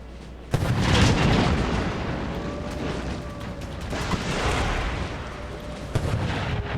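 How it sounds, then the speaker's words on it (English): Cannons bombarding fort walls in the Empire: Total War strategy game, heavy booming artillery volleys rolling into one another, loud and continuous with sharp reports standing out against a rumbling background. "Cannons fire on the walls."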